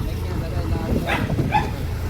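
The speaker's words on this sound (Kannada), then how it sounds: "ನಮಗೆ ನಾಯೆಲ್ಲ ಬೊಗಳ್ತಿದೆ" Dogs barking and yipping close by in a few short bursts, mixed with voices talking and general background noise.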